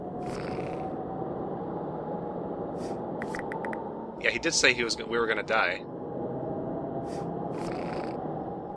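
A cat purrs in the video game Night in the Woods, a steady, low rumbling drone running continuously beneath someone talking partway through.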